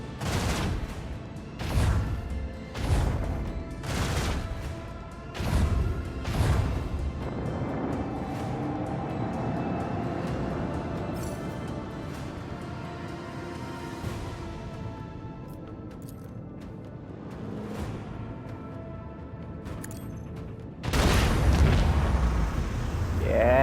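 Torpedo explosions in the Warhammer 40000 Rogue Trader video game boom one after another, a loud, heavy rolling barrage that rumbles on continuously and ends with a fresh powerful blast.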